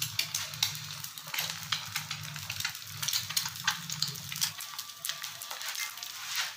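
An egg for a half-fry omelette sizzles steadily in a pan, a close continuous frying hiss dotted with small crackles and pops, with a low hum underneath and no talking.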